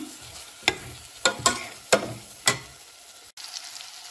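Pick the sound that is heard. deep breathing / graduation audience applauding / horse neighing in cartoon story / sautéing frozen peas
sautéing frozen peas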